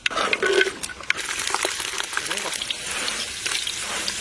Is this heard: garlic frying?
yes